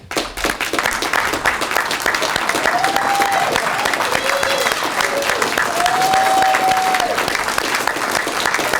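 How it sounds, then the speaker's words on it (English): Audience at a law school commencement ceremony applauds graduates with academic honors, a sustained loud round of clapping across the hall with occasional whistles and cheers rising above it. "we will take the time to applaud all of those who attained it"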